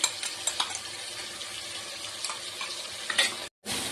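Green chilli paste cooks in oil in a pan, giving a steady close sizzle with soft stirring scrapes throughout, then a brief drop to silence near the end before the frying resumes.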